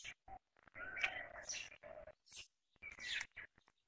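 Birds chirping and calling in a natural forest near a village, bright tweets in short bursts with pauses of near silence between, faint and close, no voices.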